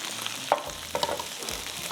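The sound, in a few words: lightly frying in a pan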